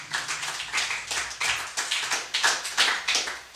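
A church congregation claps to acclaim the Lord, a loud run of rhythmic clapping bursts with a steady beat, no talking over it.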